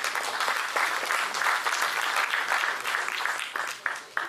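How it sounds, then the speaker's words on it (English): An audience at a university law faculty valedictory ceremony claps steadily for several seconds, a dense wash of hand claps that tapers slightly near the end. "please everyone, give him a huge round of applause"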